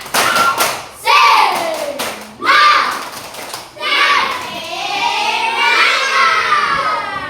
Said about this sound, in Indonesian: berikan tepuk tangan buat kelompok 4. Tepuk semangat.